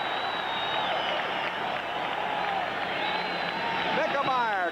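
A sellout stadium crowd roars at a 1979 NFL football kickoff between the Colts and Patriots, a broad continuous wash of cheering and applause with whistles rising near the end.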